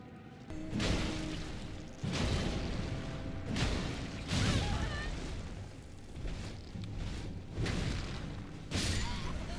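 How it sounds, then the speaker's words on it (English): Repeated booming explosions in Elden Ring near giant ants in the Rotting River, several rumbling bursts roughly every two seconds, fairly soft overall. "Should walk straight into that explosion anyway"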